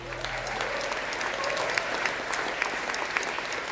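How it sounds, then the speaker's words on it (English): A festival crowd applauding steadily, dense clapping at moderate distance that holds throughout without letting up. "big round of applause for Dietmar and Marion"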